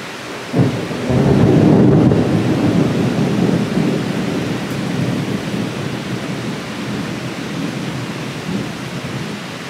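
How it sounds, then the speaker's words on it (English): Thunderstorm with rain in Phnom Penh, Cambodia: a heavy roll of thunder booms in early and rumbles away while steady rain patters and hisses throughout, loud and close. "That's just a rainfall, that's one rainfall."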